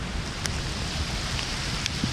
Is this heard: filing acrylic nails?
no